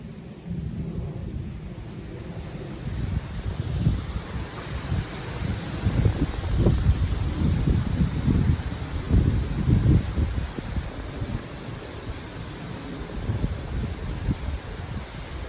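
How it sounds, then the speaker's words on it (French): Strong gusting wind ahead of thunderstorms, a steady loud roar buffeting the microphone, with deeper rumbling surges swelling and fading throughout. "Le vent qui est particulièrement fort."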